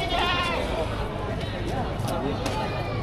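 Goats bleat repeatedly at a livestock auction in Padre Garcia, Batangas, their wavering cries rising over a busy crowd and someone talking nearby.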